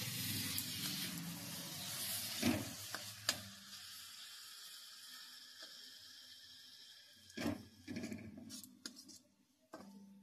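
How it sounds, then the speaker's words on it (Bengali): Boiled orange peels being stirred into a pan for homemade tangy-sweet Hajmola-style candy, soft scraping and stirring with a few sharper spoon knocks against the pan, quiet and close. "এইভাবে আমি মিশিয়ে নিচ্ছি।"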